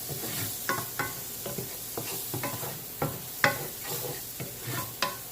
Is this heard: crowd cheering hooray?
no